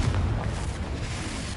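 A Confringo spell explosion in Hogwarts Legacy gives a dense, rumbling blast with heavy low-end boom that holds steady across the moment, loud and close with no talk over it.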